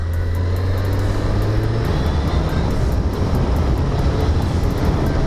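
A 1990 Suzuki GSX-R 1100 motorcycle engine drones steadily while riding, a continuous close mechanical hum with wind roar, its pitch shifting slightly partway through.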